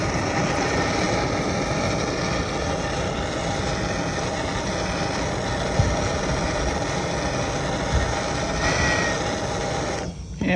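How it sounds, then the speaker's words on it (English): The generator of a Quicklite pressurized lamp is heated, giving a loud, steady roaring hiss that runs unbroken and close throughout before a brief dip near the end. "we're going to heat up the generator over here"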